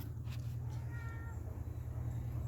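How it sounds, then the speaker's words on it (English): Pet cat named Jack meowing in a few short, faint calls around the middle, set against a steady low hum indoors. "That's my cat Jack, if you can hear him."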